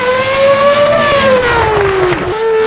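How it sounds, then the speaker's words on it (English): Williams FW14B Formula 1 car with a Renault V10 engine in the Assetto Corsa racing game, a loud, close, continuous high-pitched engine wail that climbs and then dips as revs fall and shift, with no talk. "I mean, that's a V10. Pretty sure the Renault was a V10 back then."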